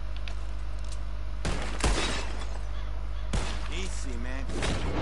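Two gunshots in Red Dead Redemption, each hitting a bottle in a shooting contest, sharp and close over a constant low hum, followed by a voice talking.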